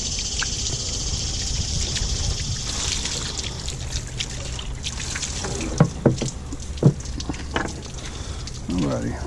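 Running water splashes and trickles while a freshly cleaned Atlantic sharpnose shark is rinsed, a steady hiss of flow broken by a few sharp drips and clatters, with a voice speaking briefly.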